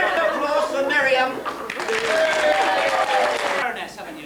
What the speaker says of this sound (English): So round of applause for Miriam.